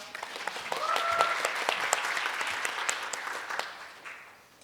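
Applause from the audience welcoming a contestant at a Korean-language speech contest in Toronto, a steady burst of many clapping hands that swells and then tapers off, with a faint tone sounding briefly early on.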